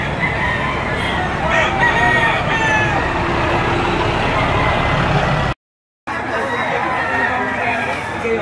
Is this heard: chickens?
yes